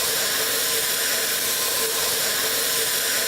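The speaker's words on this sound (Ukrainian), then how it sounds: "Спочатку вогнегасником." Fire extinguisher spraying onto a small fire during a firefighting exercise, a loud, steady, broadband hiss that runs unbroken and close throughout.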